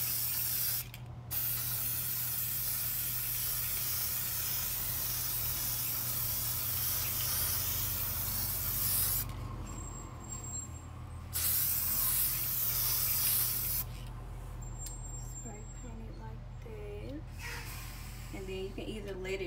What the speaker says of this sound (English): And I just spray paint it like this.